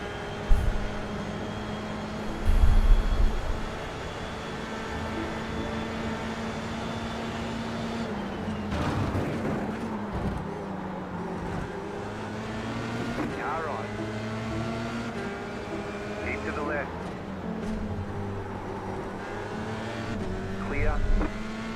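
Race car engines in iRacing during a 24-hour Nürburgring race, a steady sustained engine whine with shifting pitch and a brief louder burst early on, running under a person talking.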